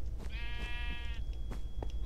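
A single drawn-out sheep bleat rings out clearly in the video game Zoe's Lab 2, close and alone over a soft background hum.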